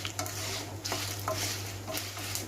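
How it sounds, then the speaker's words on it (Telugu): Garlic roasts in oil in a pan with a soft sizzle beneath repeated stirring scrapes at a steady rhythm, close up and with no voices. "కొంచెం ఆయిల్ వేసుకొని రోస్ట్ చేసుకోవాలి ఎల్లిపాయలు కూడా వేసుకుందాం"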